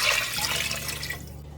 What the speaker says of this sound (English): And now I'm gonna add in my chicken broth